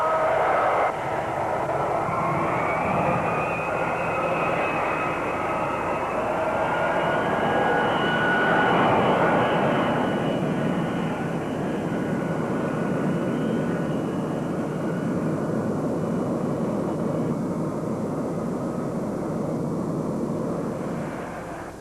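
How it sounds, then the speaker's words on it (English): A standard jet trainer aircraft flies by during shuttle landing practice, a loud continuous engine roar and whine that swells and then slowly fades, with no voices over it. "practice now included landings in standard jet trainers"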